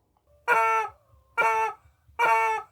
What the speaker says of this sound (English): I consulted the chicken, and the chicken said,